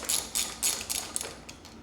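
A front caster wheel nut coming off a Jazzy Carbon 27X power wheelchair, heard as a few quick, close metallic ratcheting bursts in an irregular rhythm, fairly quiet with no talking.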